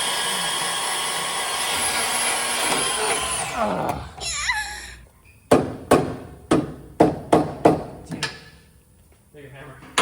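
Metal hammer blows on the motor of a flipped truck, about eight sharp, evenly spaced strikes ringing close and loud after a stretch of power-tool whine winds down.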